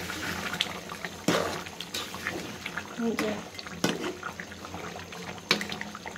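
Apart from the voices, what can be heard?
water poured into cooking duck curry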